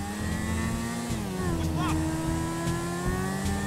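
Engine of a car speeding after a limo in Grand Theft Auto 5, a steady loud droning roar with shifting pitch throughout, with voices talking over it.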